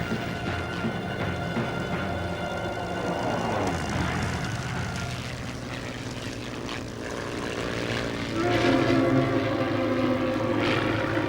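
A Curtiss Hawk fighter, an American-built propeller plane flown by the Finnish Air Force, drones steadily overhead with a buzzing piston engine that swells louder toward the end.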